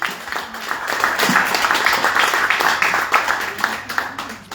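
An audience at a municipal election campaign launch claps in a brief, swelling burst of applause, moderately loud and dense, tapering off toward the end.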